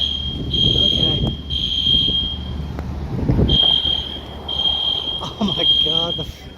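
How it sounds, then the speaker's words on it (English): A building fire alarm beeps in long, loud, shrill bursts with short gaps during an HVAC smoke test at a historic Charleston fire department building, with wind buffeting the microphone and people talking underneath. "the fire alarm's going off"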